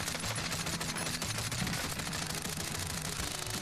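Gunfire in the Call of Duty: Warzone video game, a continuous dense rattle of rapid shots that runs steadily through the whole stretch at moderate loudness.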